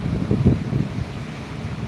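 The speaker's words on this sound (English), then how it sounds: "Very windy." Steady, blustery wind roars across the microphone, low and rumbling, with gusts swelling and easing throughout and no voices.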